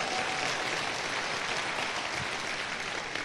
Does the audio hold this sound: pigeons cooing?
no